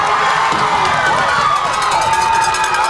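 Crowd cheering and shouting at a high school football game, Sabino at Coolidge, a loud continuous roar of many voices with excited yells rising and falling throughout, filling the whole stretch.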